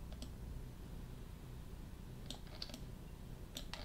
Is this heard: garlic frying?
no